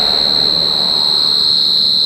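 A mole cricket sings from its burrow under a plant, a piercing continuous high-pitched trill, very loud and close, steady without pause.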